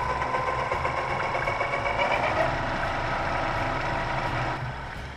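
A birch burl with bug holes and trails spins on a wood lathe at 1500 RPM, giving a steady, close mechanical whir and hum that holds even throughout and eases off slightly at the very end.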